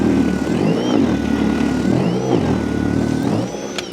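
A battery-powered snow blower throws deep snow up over a wall, giving a close, steady electric motor whine with a churning rush that dips briefly in the middle and eases near the end, with no voices.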